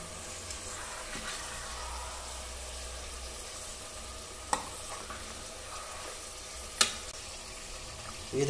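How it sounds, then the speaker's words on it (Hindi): Mutton pieces frying in oil for a curry, giving a steady soft sizzle with a low rumble beneath and two sharp utensil clicks near the middle and end, no voices. "ये देखिए फ्रेंड्स मटन फ्राई हो रहा है"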